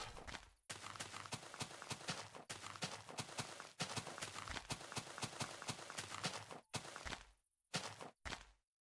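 Hooves of a horse in the Minecraft video game clatter in rapid, rhythmic clip-clop bursts, close and continuous for several seconds before breaking off into a few separate short patches.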